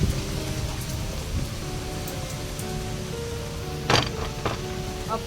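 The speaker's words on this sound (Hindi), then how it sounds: "इतनी ज़बरदस्त बारिश आ गई है।" Heavy rain pours steadily with a dense, constant hiss, and a brief crackling burst cuts through midway.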